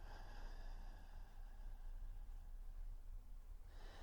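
A slow, drawn-out breath is released during a breathing exercise, a soft, close airy hiss sustained for several seconds, quiet and unaccompanied by speech.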